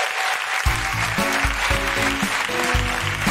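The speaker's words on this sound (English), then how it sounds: "could you please give a big round of applause for Alex Cowan and Beaver Meadow?" A live podcast audience breaks into dense, sustained applause, with tonal music sounding beneath the clapping.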